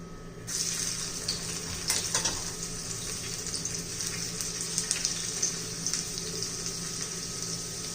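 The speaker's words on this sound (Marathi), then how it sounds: "तेल आपलं गरम झालेलं आहे त्याच्यामध्ये आपण पहिला लसूण घालून घेऊया" Garlic dropped into hot oil for a spicy green chilli dish, a sudden hiss that settles into a steady, moderately loud sizzle with a few stirring clicks.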